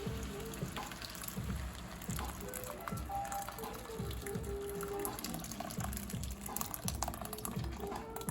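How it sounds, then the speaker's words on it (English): Broth pours steadily into a pot of softened vegetables, with a continuous liquid splashing and filling sound over faint kitchen background. "now it's time to add my broth. I'm just gonna pour that in."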